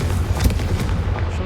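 A Confringo fire spell blasts in Hogwarts Legacy, a loud, dense, rumbling explosive roar filling the whole moment without a break.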